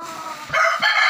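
A gamecock rooster held in the hand during conditioning gives a couple of close, loud, strained crowing or clucking calls, the second following shortly after the first.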